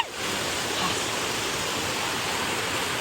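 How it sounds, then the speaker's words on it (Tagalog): Steady roaring rush of a waterfall heard up close, a dense even wash of falling water that fills the whole clip without pause, no voices. "lalapitan natin yung waterfalls doon"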